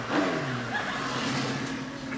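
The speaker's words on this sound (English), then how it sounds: "Oh, it sounds like old Bristow on his motorbike" A motorbike engine revs up close, its pitch rising and wavering in a brief, throaty burst.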